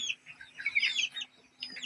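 Home-hatched chicks mixed with a few meat birds cluck and peep in bursts close by, a steady low hum running underneath.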